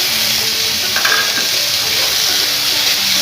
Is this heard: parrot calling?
no